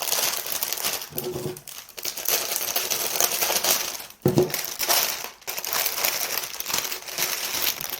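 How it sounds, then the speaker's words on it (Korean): Plastic wrap is peeled off a bundle of fresh roses, crinkling and crackling close by in dense, continuous bursts with a few short pauses and sharper rustles. "비닐도 제거를 해주셔야 돼요"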